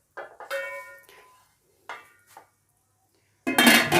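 A lid goes onto a pot of potato curry with a few sparse metallic clinks and a short ringing tone, then a final louder clatter as it settles.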